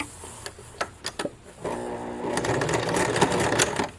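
Domestic sewing machine back stitching a formal dress seam at a quarter-inch allowance: a few isolated clicks and taps, then a steady, close whirring motor hum with rapid needle ticking for the last few seconds.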